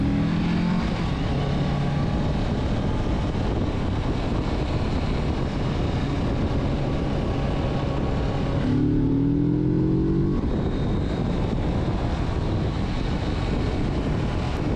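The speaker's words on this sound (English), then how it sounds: "I couldn't resist twisting the throttle just a bit." A 2024 Kawasaki Z650RS motorcycle pulls hard as the throttle is twisted on a country road, its engine note climbing in pitch through rising sweeps under constant loud wind rush.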